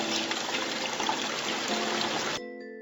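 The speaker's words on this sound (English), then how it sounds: "Rinse the foam off." Tap water runs in a steady, close hiss while soap foam is rinsed off hands, then stops abruptly, leaving a faint tonal background.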